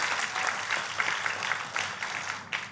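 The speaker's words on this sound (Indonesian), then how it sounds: "Kasih tepuk tangan yang paling meriah buat Tuhan kita." A church congregation claps together in worship, a dense, steady wash of applause with a faint rhythmic pulse, fairly close and loud.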